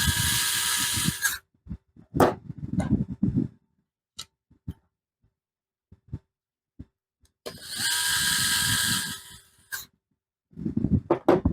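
A drill drives screws into a DIY Deej box, with two loud, close bursts of motor whine, each followed by scattered clicks and handling knocks.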